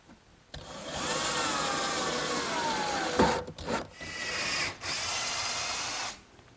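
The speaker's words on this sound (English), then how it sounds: "I'll angle some screws through." A power drill drives screws at an angle through 3/4-inch plywood shelves of a workshop hutch, whirring steadily and close for several seconds, then pausing and starting again in short bursts before stopping.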